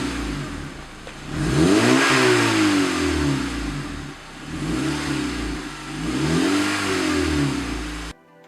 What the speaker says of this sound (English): I'm gonna throw in the clip of how the R18 sounds with the Si Muffler right now